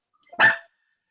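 A single short bark from a pet dog in a home, sharp and close, rising out of near silence and fading within a fraction of a second.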